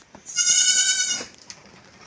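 A goat in a shed lets out one loud, sustained bleat close by, followed by quiet background rustle.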